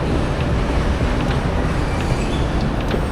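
An LRT train in Manila rumbling past close by, a dense continuous roar of wheels and carriages with faint squeals on top, steady from start to finish.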